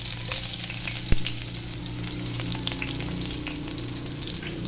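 Garlic sizzles and fries steadily in a hot pan, a dense continuous crackle with a single sharp clink near the start, no voices.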